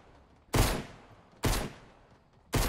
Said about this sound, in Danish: Vi skyder virkelig højt.